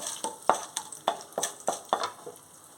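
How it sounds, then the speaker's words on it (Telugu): Peanuts, cashews, chana dal and urad dal fry in a pan for a jowar rava upma, repeated crisp stirring scrapes in a regular rhythm over a soft continuous sizzle, close and fairly quiet. "ఆ తర్వాత పల్లీలు, జీడిపప్పు, శనగపప్పు, మినపప్పు ఇవి కూడా వేసేసుకుంటున్నాను. ఇది దోరగా వేయించుకోవాలి."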